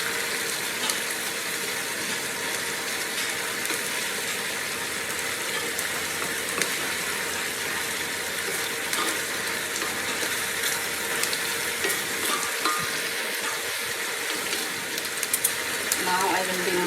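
Red pepper chili frying in oil for a chicken curry, a constant hissing sizzle that runs the whole time with small crackles, while a voice talks over it.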